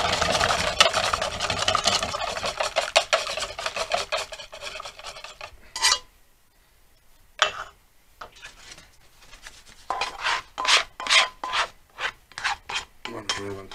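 Cloth or paper rubbing across a buttered crêpe pan to wipe off excess fat, a dry rasping scrape in bursts, then a quiet pause followed by short sharper strokes.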